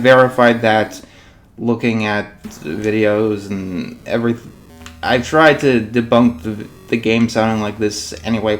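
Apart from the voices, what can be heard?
None of the usual background noises is heard.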